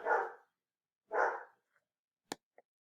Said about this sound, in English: Sorry if you can hear the dog in the background.